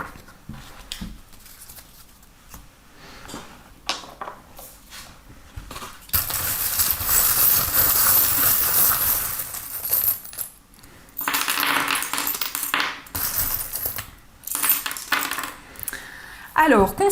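Small metal charms for a weekly divination reading tumble and clink together in loud bursts of jingling and rattling, with quieter handling sounds and pauses between the throws.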